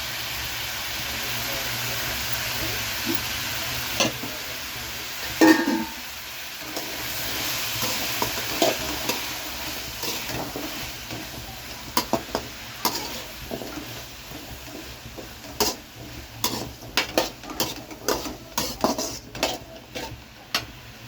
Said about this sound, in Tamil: வெங்காயம் தக்காளி ஓரளவு நல்லா வணங்கிடுச்சு.